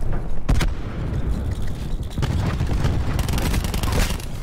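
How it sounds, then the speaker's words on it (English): A cluster grenade detonating in a video game firefight, with a sharp burst near the start followed by a dense rumble of overlapping blasts and gunfire that holds steady to the end. "Cluster grenade going out."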